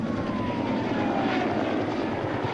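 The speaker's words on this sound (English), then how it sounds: "A thirsty Huey sucking up from nearby water sources and dumping thousands of litres on the blaze." A Huey helicopter fighting a bushfire gives off a steady, loud rotor-and-engine drone that holds constant throughout, with a faint falling whine gliding beneath the continuous thrum.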